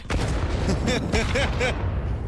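Grenade explosions in a professional Counter-Strike match: a dense run of booming blasts and pops in close succession, loud and layered over busy game noise, with no talking.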